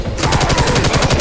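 Rapid automatic gunfire from Left 4 Dead 2 rattles in a steady, loud burst, the shots coming in quick repeated pulses with no pause throughout.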